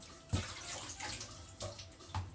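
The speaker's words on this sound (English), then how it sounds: "I'm gonna just pour a little bit of sanitizer here anyway" Sanitizer liquid poured into freshly sanitized homebrewing gear for a hefeweizen batch, heard as a few short splashing bursts over a steady watery background, fairly faint and close.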